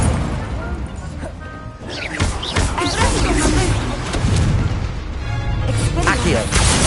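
In Hogwarts Legacy, the Incendio fire spell is cast amid combat, bringing crashing bursts and booming impacts that rise and fall over several seconds, loud and close, with a voice calling out over them.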